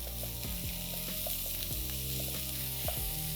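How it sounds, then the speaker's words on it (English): Onions and finely chopped capsicum frying for pav bhaji, with a dense, steady sizzle that stays loud throughout and a few soft stirring knocks. "Now the onions have softened a little, so I'm going to add in capsicum."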